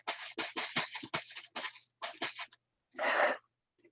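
A cat playing on a bed with pencils inside a plastic bag: a run of short rustling, crinkling bursts in quick irregular succession, then a pause and one longer crackle, fairly close and quiet.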